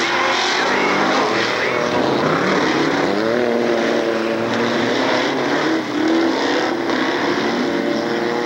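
Loud, continuous engine roar of V6 mud bog trucks racing close by at a 1994 Lake Odessa, Michigan mud bog, rough and throaty with rising pitch as they accelerate, with no breaks.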